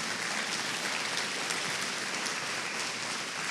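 A congregation applauds for Jesus during a church sermon, producing a dense, continuous rain-like patter of many clapping hands at moderate level.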